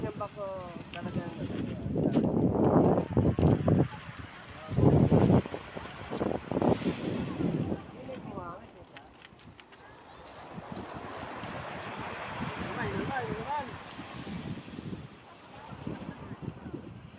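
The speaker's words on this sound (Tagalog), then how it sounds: "Laki ng alon." Wind roars across the microphone with the rush of large waves breaking nearby at a beach in La Union, while voices talk over the surf in the first half.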